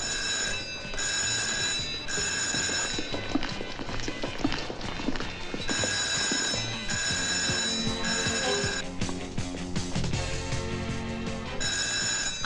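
A school fire alarm bell rings in repeated loud, metallic bursts separated by short gaps, with hurried footsteps and shuffling underneath.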